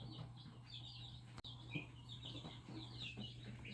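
A pet brooder bird that flew out of its pen makes faint, soft clucks and chirps at close range over a low steady hum, with no voices.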